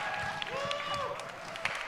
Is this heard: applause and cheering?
yes